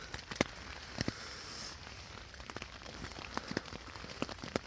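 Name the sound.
rain pouring down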